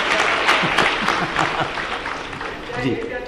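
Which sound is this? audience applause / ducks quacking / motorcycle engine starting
audience applause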